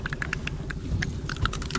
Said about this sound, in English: He's clicking at me.